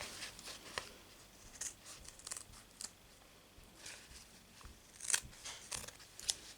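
Scissors snipping material for a DIY stamp cleaner pad, a quiet close series of irregular crisp cuts with soft handling sounds between them and no speech.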